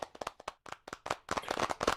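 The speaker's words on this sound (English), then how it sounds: "just give them a big round of applause" Audience at an awards ceremony claps in quick, irregular bursts, close and fairly faint, building into denser applause toward the end.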